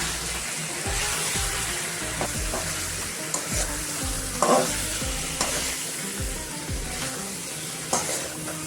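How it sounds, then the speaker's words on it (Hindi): Beaten egg sizzles steadily in a hot pan while a utensil stirs and scrapes through it, making rhythmic scraping strokes and occasional taps over a constant loud frying hiss, with no voices. "ये अंडा ऐड कर देंगे। अभी में अच्छे से मिक्स करेंगे।"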